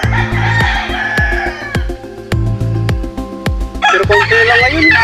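Gamefowl roosters at a derby game farm crow repeatedly, several birds overlapping in loud, close calls with clucking underneath, no talk.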